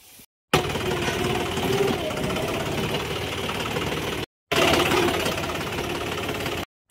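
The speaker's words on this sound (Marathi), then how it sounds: "कीटकनाशक फवारणी चालू आहे बघा, दुसरी टाकी मारत आहे." An engine-powered backpack pesticide sprayer runs in a crop field, a loud, close, steady rattling drone that cuts out briefly twice and restarts.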